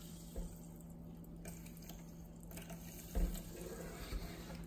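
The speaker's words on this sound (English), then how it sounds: "Let's pour some water in." Italian sparkling mineral water being poured into a small cup, a faint steady trickle and fizz with a couple of soft bumps, close and quiet.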